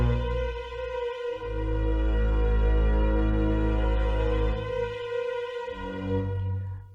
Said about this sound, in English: we just had these very simple high and low strings